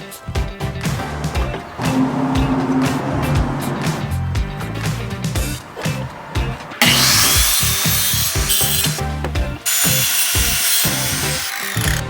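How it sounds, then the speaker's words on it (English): A power saw with a dull blade bogs down as it cuts through wooden bar stool legs, a loud grinding, rasping whine with a sharp, brighter stretch partway through. "This is literally burning and struggling to cut through."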